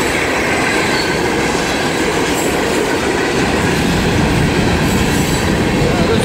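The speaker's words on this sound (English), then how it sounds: "This is a fairly long train right here. Now these are quarry cars, I know." A long freight train of gravel quarry cars rolls steadily past at close range, a continuous loud rumble of wheels on rail with faint squeals and clacking throughout.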